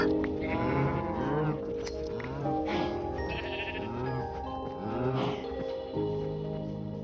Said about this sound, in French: Les moutons.